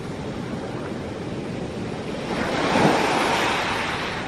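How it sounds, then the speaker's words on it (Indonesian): Roaring ocean waves pound in a steady, broad wash of surf that swells louder midway before easing off, with no voices. "sora ombak ngaguruh, bunyinya seperti ini, ngaguruh"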